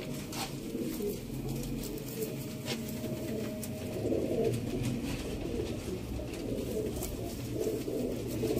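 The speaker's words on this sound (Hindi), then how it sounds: "नायाब सियालकोटी कबूतर" Sialkoti pigeons, black-faced birds kept for sale, coo in soft repeated low throaty calls, several overlapping nearby against a steady background murmur.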